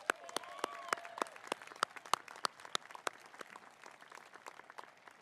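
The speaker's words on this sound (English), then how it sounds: "Let's give Gavin a big round of applause." Applause at a university commencement ceremony, with sharp individual claps standing out near the microphone over a softer spread of clapping from a crowd, slowly fading.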